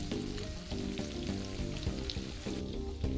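Fish frying in a pan over a campfire at a campsite, with a dense, continuous sizzle and crackle and occasional stirring clicks, close and steady throughout.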